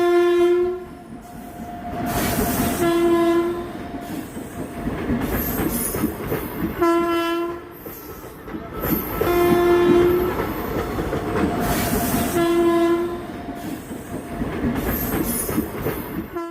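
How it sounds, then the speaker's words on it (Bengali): Trains rumble past up close at a closed railway level crossing, with repeated loud horn blasts sounding over steady rolling and clattering wheels. "ফাইনালি ট্রেনগুলো গেল, তারপর আমাদের গেটটা খুলে দেওয়া হলো"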